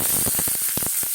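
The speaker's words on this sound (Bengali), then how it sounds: "পেঁয়াজ দিলাম" Chopped onion hits hot oil in a kadai and sets off a loud, dense hiss of sizzling, with crackling pops rising out of it.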